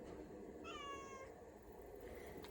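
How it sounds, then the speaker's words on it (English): A house cat lets out one drawn-out, tonal meow, faint against a steady low indoor hum, with a softer trailing cry near the end; no one speaks. "because the cat won't stop meowing"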